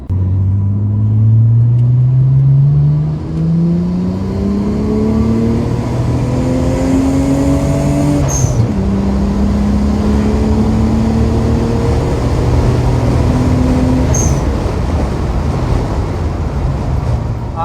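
A Nissan Skyline R33 GTR's deep aftermarket single-tailpipe exhaust rumbles steadily at idle, with several gentle revs rising and settling over a long continuous drone. No one speaks.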